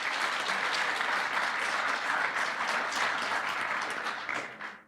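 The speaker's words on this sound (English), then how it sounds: "Give them all a big round of applause." A crowd at a junior chef of the year competition in Ireland claps for the judging panel, a steady, full burst of applause that fades out at the end.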